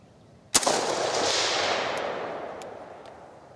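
A single sharp, loud rifle shot from a DPMS AR-15 fires outdoors, a hard crack followed by a long rolling echo that fades over a few seconds, with faint distant reports in the background.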